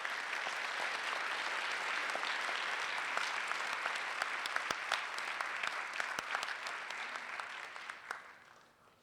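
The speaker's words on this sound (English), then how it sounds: "another big round of applause for them." Sustained applause from an audience in a school auditorium, honoring students at a school board meeting, steady and full before tapering off toward the end.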